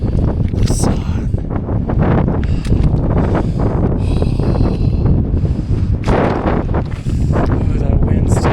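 Cold mountain wind gusting across a high exposed slope on Mt Assiniboine, a loud continuous rushing roar buffeting the microphone, with occasional thumps and a voice under it.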